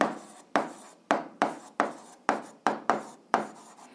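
A pen scratches out a written check of an algebra solution, a run of short, close, brisk strokes, each starting sharply and trailing off, with brief pauses between them.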